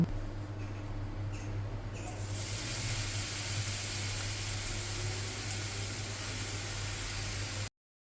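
Steady sizzling hiss of eggplant frying in a pan with garlic, continuous and close, with a faint low hum underneath; no talking.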